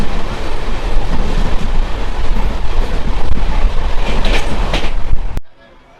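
The Amrit Bharat Express, an Indian passenger train, runs at top speed toward Rampurhat, a loud steady roar of rolling wheels and rattling carriages with rhythmic clatter heard from inside, cutting off abruptly near the end.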